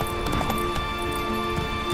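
Roach, the horse in The Witcher 3 Wild Hunt, gallops with rapid, continuous hoofbeats mixed with game music and ambient tones, close and fairly loud throughout.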